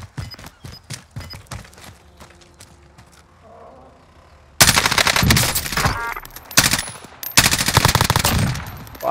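Rapid automatic gunfire in the Warzone battle royale game, a quieter stretch of scattered shots giving way at mid-clip to loud, dense sustained bursts that fill the rest.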